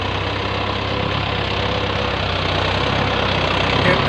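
A farm tractor fitted with cage wheel rings puddles a flooded paddy field before rice transplanting, its diesel engine running in a steady, continuous mid-low drone with a constant knocking chug, close and loud throughout.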